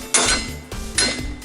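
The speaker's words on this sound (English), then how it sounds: "now again with the hammer you need to hit on the metal right there." A hammer strikes the metal of a car wheel hub twice during CV axle removal on a Dodge Stratus or Chrysler Sebring, giving sharp, ringing metallic bangs close by with no talking.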